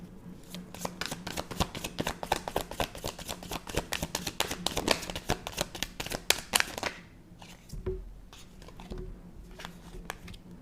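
Playing cards being shuffled close up, a rapid riffling flutter of many quick snaps for several seconds, then a few softer taps and slides as the deck is squared.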